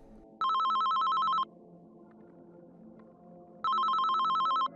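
A telephone rings in a horror video game, two bursts of electronic bell trill about a second each, separated by a pause over a low ambient hum.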